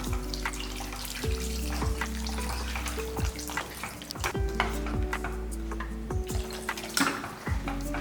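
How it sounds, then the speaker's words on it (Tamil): Water is poured into simmering tamarind vatha kuzhambu in a pan, with a steady bubbling hiss and a series of sharp ladle clinks against the metal rim. "இப்போ இந்த குழம்புக்கு தேவையான அளவுக்கு தண்ணியை ஊற்றிடலாம்."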